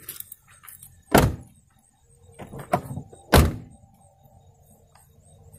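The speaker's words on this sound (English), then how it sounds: "I think I'll close the second door so I can use that as a better gauge." A van's second door is closed, giving several solid thunks and slams spread over a few seconds, the last one loudest and nearest, with quiet handling noises between them and no talking.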